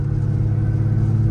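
A 1990 Porsche 964 backdate 911 idles with a steady low rumble while its throwout bearing binds slightly as the clutch is pressed, a continuous near engine drone with no voices.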